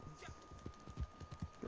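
Horse hooves clip-clopping in the Western video game Red Dead Online, a faint, steady rhythm of soft hoofbeats at a walking pace heard on its own.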